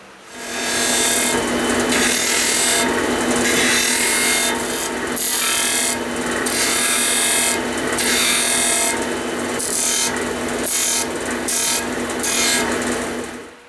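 A 12-inch disc sander grinds steadily against a wooden spoon's convex back, a continuous rough rasp that rises and dips in short bursts as the piece is pressed and lifted.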